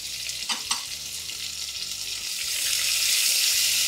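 Sliced onions and green chillies frying in a pan for mushroom biryani, a steady hissing sizzle that grows louder as the pieces hit the hot oil, with a couple of soft clinks early on.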